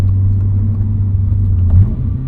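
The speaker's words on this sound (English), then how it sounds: "I do recommend this performance exhaust over the stock exhaust. It just sounds better" A 2025 Toyota GR86 Hakone Edition with a performance exhaust, heard as a loud, steady low drone with a slight swell near the end, close and alone with no talking.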